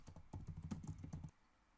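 Fingers type a short column title on a computer keyboard, a quick close burst of about a dozen clicky keystrokes lasting just over a second before going quiet.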